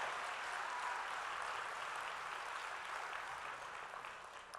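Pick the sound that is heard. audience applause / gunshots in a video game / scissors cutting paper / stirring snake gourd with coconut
audience applause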